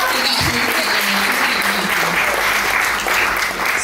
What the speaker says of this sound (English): So Harriet definitely needs a round of applause